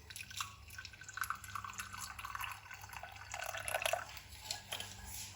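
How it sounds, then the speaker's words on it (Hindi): Hot water is poured into instant coffee in a cup, giving a faint, steady trickle with soft splashes and drips, heard alone without talk. "यहाँ पे अब कॉफी के अंदर आपने गरम गरम पानी ऐड करना है।"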